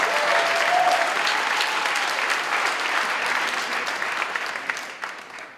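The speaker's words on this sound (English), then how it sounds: "a round of applause for our winners, the Okanagan Forest Task Force" A civic and community awards crowd applauds the winners, the Okanagan Forest Task Force, with loud, dense clapping that stays full for several seconds before thinning toward the end.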